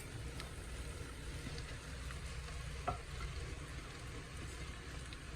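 Bitter gourd sautés in a pan for pickle, giving a faint, steady, low sizzle with one brief stirring clink midway.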